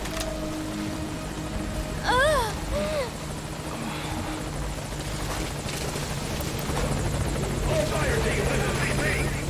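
Helicopter from the video game Metal Gear Solid V, a steady rotor drone throughout with radio voices and game effects over it.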